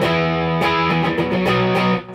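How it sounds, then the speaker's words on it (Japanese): An electric guitar played through a distortion pedal strums chords up close, a few sustained crunchy strikes with a steady rhythm, loud and alone. "すごく綺麗な歪みですよね。"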